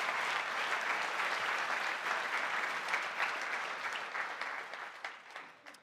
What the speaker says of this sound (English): Let's have a round of applause for our collaborative working entries.